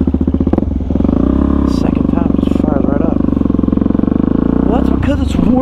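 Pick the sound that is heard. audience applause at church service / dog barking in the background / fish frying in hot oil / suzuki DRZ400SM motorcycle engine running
suzuki DRZ400SM motorcycle engine running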